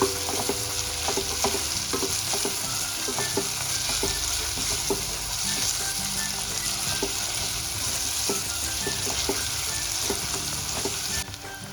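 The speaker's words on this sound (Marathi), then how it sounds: "कांदा आणि टोमॅटो अगदी व्यवस्थित असं भाजून घ्यायचंय आपल्याला" Onion and tomato sautéing with spices in a pan for lima bean rice, a steady sizzle with regular scraping stirs throughout, close and continuous with no talking.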